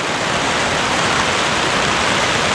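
Heavy rain pours down in a dense, steady roar, loud and close, with no break, at a house construction site during a storm.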